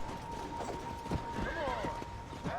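Hooves clip-clop and a horse neighs in Red Dead Redemption, several whinnies rising over steady hoofbeats against a constant in-game tone and background chatter.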